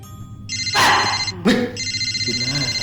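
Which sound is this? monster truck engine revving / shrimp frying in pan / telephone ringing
telephone ringing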